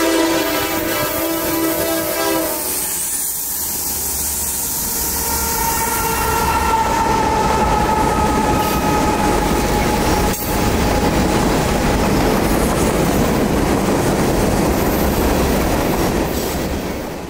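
Norfolk Southern freight train 25A on the CNO&TP line sounds a harmonic horn chord at first, then the train rolls past loudly with a steady rumble of wheels and cars, a faint squeal, and no talk.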